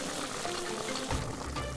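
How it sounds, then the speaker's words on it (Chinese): Wild red-net bolete mushrooms hit hot oil over high flame in a wok, giving a steady close sizzle that swells into louder crackling frying partway through. "先过一遍油，再次猛火持续爆炒，保证菌子彻底熟透。"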